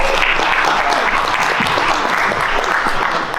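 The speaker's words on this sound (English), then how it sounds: "A big round of applause for all, guys." A short burst of loud audience applause at a conference session, dense clapping from many hands filling the whole moment.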